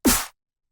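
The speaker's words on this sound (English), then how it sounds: "movie people now could just swap out punch hit sound effects for dubstep snares" One sharp, punchy dubstep snare used as a punch sound effect cracks loudly and cuts off quickly, followed by silence.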